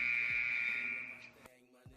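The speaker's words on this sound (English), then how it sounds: "That's the buzzer already" A show buzzer blares with a steady, loud electronic tone for over a second, then cuts off, leaving a couple of faint thumps in the near-quiet that follows.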